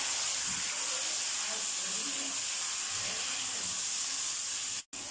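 Tomatoes go into a chicken karahi and sizzle in an even, continuous hiss. The frying holds steady until a brief cut near the end.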